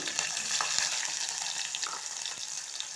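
Onions frying in hot oil with cumin and green chilli, a dense, bright, continuous sizzle with soft scraping stirs, close and steady.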